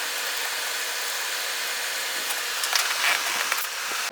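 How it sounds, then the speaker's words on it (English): Compressed air from an air gun hisses steadily while blowing out bolt threads on a small mower engine, a continuous airy rush that swells near the end. "I'll use my air gun to clean it out"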